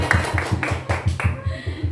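A group claps in a regular rhythmic pattern, about a dozen sharp near claps in quick steady beats, loud and alone before fading.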